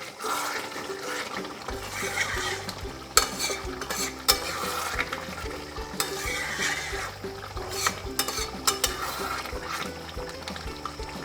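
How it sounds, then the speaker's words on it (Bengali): Hot mutton stock poured into a bubbling mutton curry and stirred brings a steady simmering hiss, sharp spoon-against-pot scrapes and taps, and a low droning hum underneath, with no talk. "আবারও একটু আমি এর মধ্যে এই মটনের স্টকটা দিয়ে দেব"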